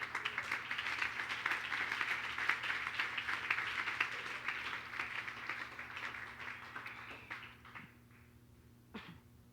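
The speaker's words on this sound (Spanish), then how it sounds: "Si le va a dar ese aplauso, déselo." A church audience at a sermon on families breaks into sustained applause, a dense wash of many hands that slowly thins out toward the end over a low steady hum.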